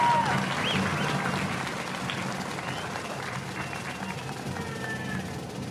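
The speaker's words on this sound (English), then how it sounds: "Let's give them a round of applause." A commencement crowd claps for graduating high school seniors, a loud dense applause that is strongest at the start and gradually thins, with faint cheers mixed in.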